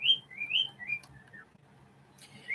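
An old pet bird whistles a series of clear, rising and falling notes at close range in a quiet room, pausing briefly before a final whistle.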